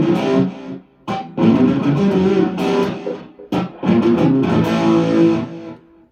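Heavily distorted electric guitar played through a Roland GP-8 effects processor, chugging riffs with a thick, saturated tone, loud and continuous with brief gaps between phrases.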